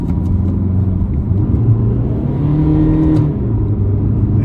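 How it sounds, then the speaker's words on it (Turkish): Fiat Egea accelerating under a sudden press of the throttle, engine note rising in pitch over a low rumble and road noise from inside the car, loud and continuous without speech. "şu an anlık gaza bastığında aracı mesela yapıştırmasını göreceksiniz"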